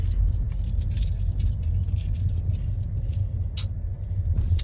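Car keys jingle and clink in short metallic bursts inside a vehicle, over a low steady engine rumble, with no talking.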